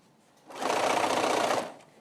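A sewing machine stitching quilt binding runs in one short, steady burst of fast needle whir, close and clear, starting and stopping cleanly with no talk.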